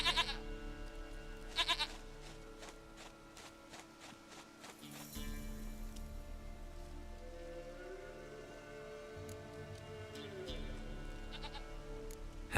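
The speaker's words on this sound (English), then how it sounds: "Goat of mine, dearest, sweetest goat." A goat bleats several times in The Witcher 3, its cries standing over a soft patter of rain and ambient game music, with a few brief knocks and faint voices.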